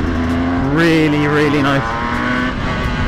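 Revving of a two-stroke motorcycle engine held in the higher revs in second gear, a loud buzzing whine that rises and falls in pitch, with someone speaking briefly over it.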